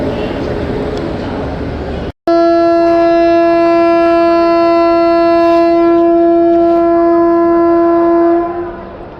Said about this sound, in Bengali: একেবারে অন টাইম রাত নটা বেজে পঞ্চান্ন মিনিটে শালিমার স্টেশন থেকে আমাদের ট্রেন ছেড়ে দিয়েছে